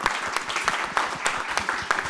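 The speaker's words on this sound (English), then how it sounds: "Big round of applause for Anne-Marie." An audience at a panel discussion claps in a short burst, with dense, steady clapping lasting about two seconds and no voices over it.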